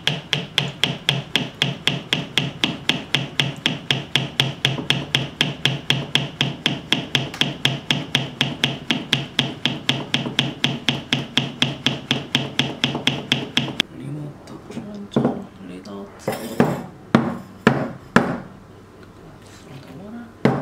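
A hand-cranked coffee grinder set finer for French press coffee, turning in a fast, steady run of sharp rhythmic clicks that stops abruptly, followed by a few scattered knocks and taps, loud and close.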